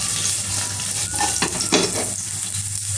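Carrots fry in hot olive oil with a loud, continuous sizzle. A few brief stirring scrapes break through near the middle, and no one speaks.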